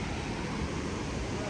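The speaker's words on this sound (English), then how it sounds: "that is Ruacana waterfall for you" Ruacana waterfall in Namibia roars as a steady, dense wash of falling water, loud and close with broadband rushing noise and no breaks.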